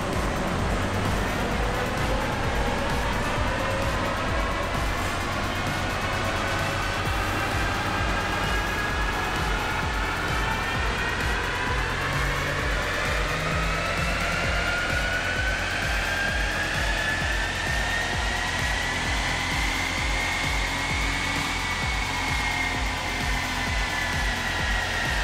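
A Lincoln Navigator EcoBoost engine runs hard on a dyno with a loud, steady roar whose pitch climbs slowly and sweeps up through the pull, with no talk.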